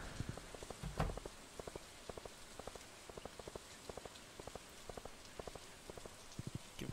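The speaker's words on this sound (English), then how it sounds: "it's pouring down rain out there" Rain pouring down in a farming video game, a soft steady hiss dotted with quick repeating droplet ticks, faint and without voices.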